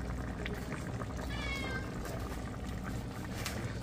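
A house cat meows near a kitchen where beef curry simmers, a brief rising-falling cry heard once amid steady background hiss.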